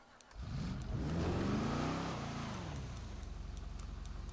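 A car engine in GTA V revs hard while the vehicle is stuck, a loud sustained roar that climbs and wavers, then settles into a steady throbbing idle-like drone.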